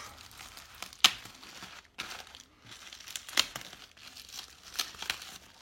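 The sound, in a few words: unwrapping a parcel wrapped in bubble wrap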